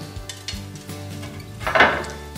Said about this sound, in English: let's add the cauliflower, along with the chilli, sweet potato, some beautiful rosemary